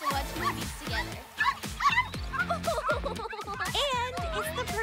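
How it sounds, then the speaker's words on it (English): Puppies in Barbie's Dreamhouse yip, whimper and bark playfully in quick repeated bursts, close and fairly loud, over busy background music and voices. "it's the perfect spot to watch the puppies play"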